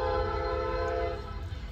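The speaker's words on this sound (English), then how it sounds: "We got a train coming." A train approaches on a Wisconsin short-line railroad, its steady horn tones and low rumble loud and continuous throughout.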